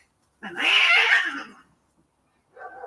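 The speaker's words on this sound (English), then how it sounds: "The kitten is after Maui, and Maui's old and grumpy." An old cat and a kitten growl and hiss at each other in a harsh, noisy outburst lasting about a second, followed by silence and then a shorter, quieter snarl near the end.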